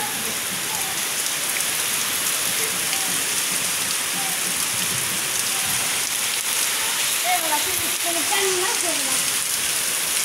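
Heavy rain pouring down steadily, a dense, continuous hiss of drops on surfaces with faint bird calls mixed in.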